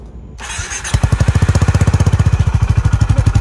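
An engine cranks briefly and catches, then settles into a steady, even idle of rapid rhythmic pulses, close and fairly loud, with no talking.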